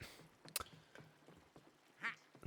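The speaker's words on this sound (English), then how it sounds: "There's a duck in the toilet" A cartoon duck in a toilet quacks in the Mario + Rabbids: Sparks of Hope video game, giving a few short, bright squawks among clicks and light game sounds, fairly quiet overall.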